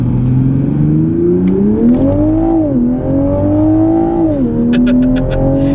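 A 2020 Toyota Supra on Mickey Thompson tires accelerates hard in first gear, its loud, close engine droning steadily as the pitch gradually climbs, without a break.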